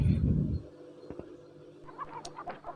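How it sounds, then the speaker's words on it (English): A hen gives a few short, soft clucks after a low rumbling thud, scattered and fairly faint against a quiet background. "Hen clucks."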